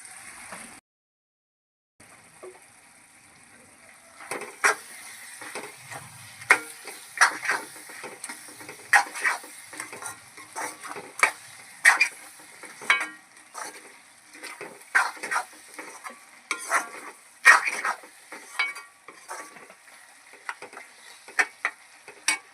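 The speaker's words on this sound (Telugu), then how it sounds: "ఉప్పు కారం వేసుకున్న తర్వాత ఒక రెండు కరివేపాకు రెబ్బలు వేస్తున్నాను" Curry leaves crackle and sizzle in hot oil in a pan for an egg and dried prawn curry. Sharp popping bursts and stirring scrapes repeat after a brief quiet start, close and moderately loud, with no talking.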